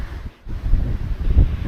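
Strong wind buffeting the microphone at the top of Tad Soung waterfall, loud low-pitched gusting rumble with a brief lull, no voices.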